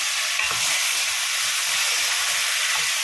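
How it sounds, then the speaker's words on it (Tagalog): Chopped tomatoes sautéing in a pan with milkfish, garlic and onion, a continuous bright sizzle and hiss with soft stirring scrapes, close and steady throughout. "mas healthy yung kamatis pag nagigisa"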